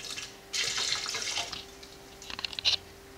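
Water splashes as a container of thick stew residue is rinsed out into a blender in a home kitchen, one fairly steady pour followed after a pause by a few shorter, sputtering splashes.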